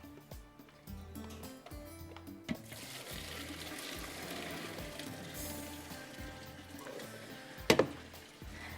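Water from boiled basmati rice drains through a strainer in a home kitchen, a steady hissing pour running for several seconds after some clatter, ending with a sharp metallic knock.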